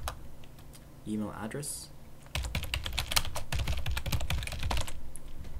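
Computer keyboard typing while entering account details in Outlook email setup, a rapid run of close, crisp keystrokes under a speaking voice.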